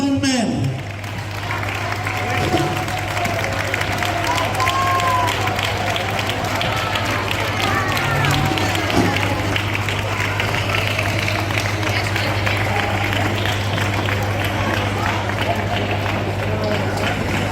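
Strong applause from a carnival crowd greeting the entering queen at a senior citizens' carnival party in Vinaròs, sustained clapping over a hum, with voices mixed in throughout.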